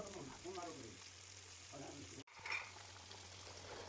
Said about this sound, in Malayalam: നമ്മുടെ വറുക്കാനിട്ട മീൻ ഇനി തിരിച്ചിട്ട് കൊടുത്തു കഴിഞ്ഞാൽ